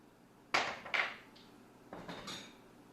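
A spoon scoops flour from a container and tips it onto a kitchen scale while making sourdough bread; four short scraping and tapping clatters come in two close pairs, nearby and fairly quiet, with no talk.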